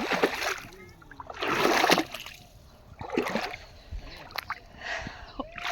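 Water splashing and sloshing in bursts as someone wades into a muddy riverbank near a boat, close and moderately loud, with quiet pauses between.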